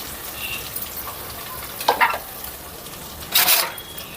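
Onions frying in a pan of hot oil with whole spices for egg biryani, a steady soft sizzle with brief brighter bursts of stirring partway through.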